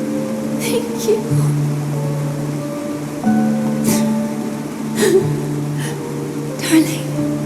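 Rain falls as a soft wash in Honkai: Star Rail, sitting beneath sustained musical tones and brief breathy vocal sounds that come and go.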